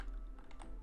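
A few quick keyboard keystrokes typing a command into Roblox, brief soft clicks close by, alone without talk.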